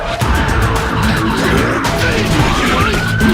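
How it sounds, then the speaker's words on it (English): Loud, busy traffic roar with engines and what sounds like a siren's tone woven in, continuous and dense throughout. "I actually use sirens in the song and synchronize it."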